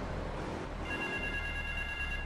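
A telephone in the video game GTA III rings with a steady high electronic trill that starts partway through and continues over a constant low background hum.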